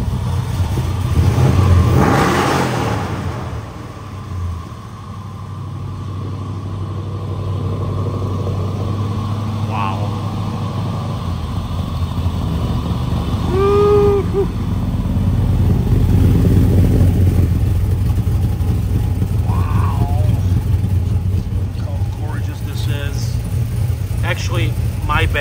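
A 1957 Chevrolet Bel Air engine idles with a low rumble, then revs up and settles back, while people talk nearby over the steady motor sound.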